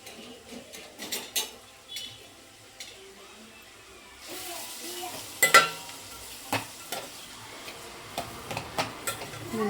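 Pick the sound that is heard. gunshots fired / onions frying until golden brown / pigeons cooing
onions frying until golden brown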